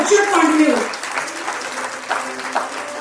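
Audience at a teachers' award ceremony claps steadily and loudly throughout, with a sung or musical tone and voices audible over the dense applause.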